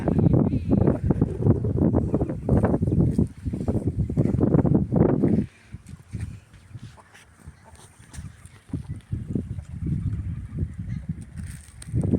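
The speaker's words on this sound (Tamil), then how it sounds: "காற்று நல்லா அடிச்சிட்ருக்கு" Loud, gusty wind in a home garden where chickens are kept buffets the microphone in heavy rumbling bursts, easing midway into a lighter, uneven blowing.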